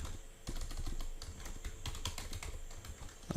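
Code being typed on a computer keyboard for a Java matrix program, a close, quiet run of rapid irregular key clicks.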